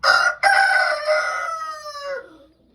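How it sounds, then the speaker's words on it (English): A rooster crowing once, loud and near, in a drawn-out call that trails off, with faint farmyard sounds in the background. "Too many roosters."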